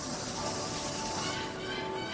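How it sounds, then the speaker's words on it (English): A Dramm One Touch rain wand on low pressure sprays water onto indoor plants, a steady soft hiss that thins slightly toward the end. "Even with low pressure you get a pretty nice spray out of it."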